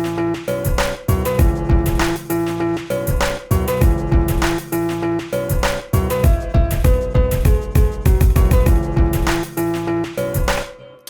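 A chopped, sampled version of a recorded music loop plays as a beat, its tonal fragments cut into punchy rhythmic stabs over a solid low end, continuous and fairly loud with no talking.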